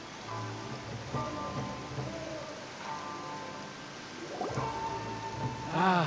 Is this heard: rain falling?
yes